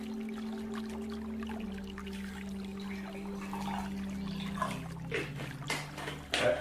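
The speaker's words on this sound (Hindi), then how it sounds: "RO का पानी है वो मैं इस ग्लास में डालता हूँ" RO water is poured into a glass, heard as a few brief, faint splashy bursts toward the end over a steady background hum, without any talk.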